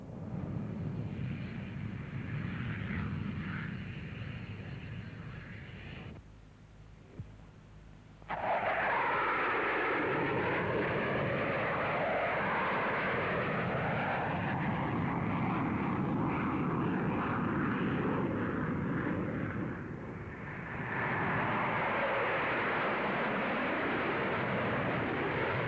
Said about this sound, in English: Now the RAF shows off the Lightning,